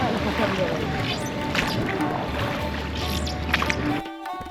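A boat ride on the water near the Maa Chhinnamasta temple at Rajrappa. A continuous rumbling wash of the boat and water runs throughout, with faint background voices, before it drops away abruptly at the end.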